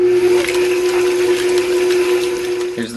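An electric mixer churns whipping cream into butter up close, its motor holding a steady whine for the whole stretch with a wet, sloshing texture on top, then shifting pitch briefly right at the end.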